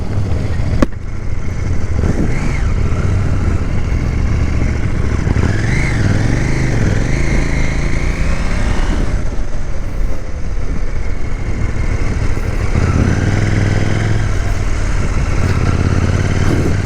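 A 2020 KTM 790 Duke motorcycle engine drones loudly while riding, rising and falling as the throttle is twisted, with steady wind rush close to the rider.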